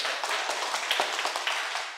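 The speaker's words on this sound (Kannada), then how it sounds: "ಒಂದ್ಸಾರಿ ಜೋರಾಗಿ ಚಪ್ಪಾಳೆ." Audience at a meditation and satsang gathering in Channapatna clapping together, a fairly loud, steady patter of many hands filling the space for a couple of seconds with no voices over it.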